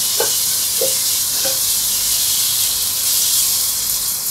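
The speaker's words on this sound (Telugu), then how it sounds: "ఆయిల్ ఇలా ఫ్రై అయ్యి పైకి ఇలా వచ్చే వరకు ఫ్రై చేసుకోవాలి." Ground spice paste frying in oil for chicken curry gives a steady, close sizzle and hiss throughout, with a few brief stirring scrapes near the start.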